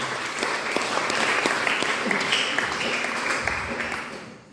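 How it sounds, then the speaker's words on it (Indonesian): A church congregation claps together in a steady wash of applause during a sermon, fairly close, fading out at the end. "Kasih tepuk tangan bagi Tuhan."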